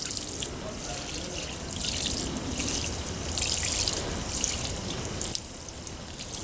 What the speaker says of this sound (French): On va arroser copieusement sans faire de trou. Alors si on a un arrosoir, on le fait à l'arrosoir.